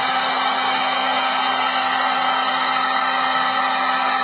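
A heat gun blows hot air onto wrinkled vinyl in a loud, continuous whooshing whine with a steady motor hum, close and unbroken throughout.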